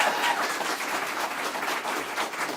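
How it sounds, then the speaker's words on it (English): Audience applause at a campaign announcement for Spokane City Council President, a steady wash of many hands clapping throughout, fairly dense and even with no voices over it. "let me hear you clap your hands"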